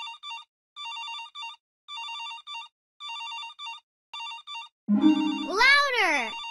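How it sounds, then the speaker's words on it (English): A telephone rings in a Dora the Explorer video game, six short repeated electronic ring bursts evenly spaced, followed by a loud rising-and-falling cartoon sound effect. "I hear the phone ringing."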